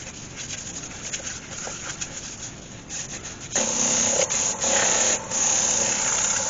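Wax rubbed onto a spalted beech bowl turning on the lathe gives a steady dry rubbing hiss that grows noticeably louder and harsher halfway through, with brief dips in the friction.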